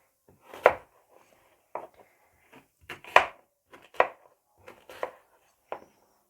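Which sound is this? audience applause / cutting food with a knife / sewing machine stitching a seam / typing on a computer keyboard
cutting food with a knife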